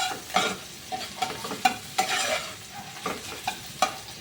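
Chopped garlic, onion and green chili frying in white oil in a nonstick wok, with repeated scraping stirs every half second or so over a soft sizzle, close and without talk.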